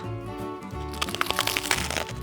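The crisp crust of a poolish baguette cracks and crunches. A dense burst of dry, close crackles fills the second half over a steady musical background.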